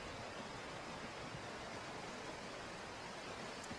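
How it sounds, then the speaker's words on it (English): A flowing jungle river in the video game Call of Duty: Ghosts makes a steady, faint broadband rush of water with no breaks and no talk. "At least the river hides the noise we make."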